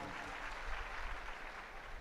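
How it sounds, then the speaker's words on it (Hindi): An audience claps in steady, diffuse applause, moderately quiet and sustained throughout, filling the room with a continuous patter. "ताली बजाकर धन्यवाद दें।"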